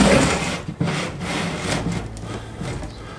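Oversized wooden part rubbing as it is pressed into a slightly flared opening while a photo booth is assembled, a close, continuous scraping friction with a few sharper catches and no talk.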